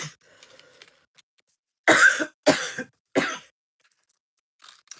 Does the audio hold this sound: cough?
yes